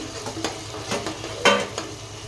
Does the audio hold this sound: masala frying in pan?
yes